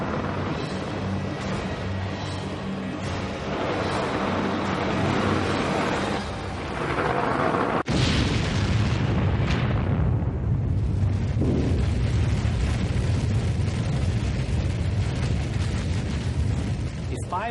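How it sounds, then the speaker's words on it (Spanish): A huge 500-kiloton nuclear warhead explosion rumbles, with a sudden sharp blast midway followed by a long, loud roaring boom that lingers. "La explosión de una ojiva de 500 kilotones en la Casa Blanca"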